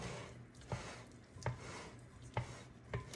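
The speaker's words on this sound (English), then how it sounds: "we're just going to mix that around" A spoon turns tuna macaroni salad in a bowl. It gives soft, quiet, regular mixing scrapes and light knocks about every three-quarters of a second against a faint background hiss.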